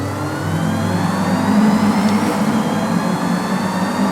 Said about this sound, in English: It kind of sounds a bit like an old style kettle when it's just about to boil over